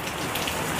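Steady rain falls outside a motorcycle repair workshop, a dense continuous patter of drops hitting surfaces, even and unbroken, with no voices.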